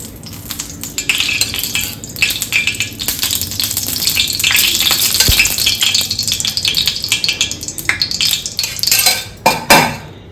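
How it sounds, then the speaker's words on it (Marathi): Oil added to a hot cast appe pan for mixed-dal appe sets off a steady, close sizzle and hiss, with scattered metallic clinks and rattles of the pan and utensils; no one speaks. "याच्यामध्ये तेल घालून घेणार आहे आप्याच्या पात्रामध्ये"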